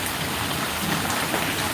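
Steady, dense rain pours down without a break, a close and even hiss of drops striking surfaces, with no voices.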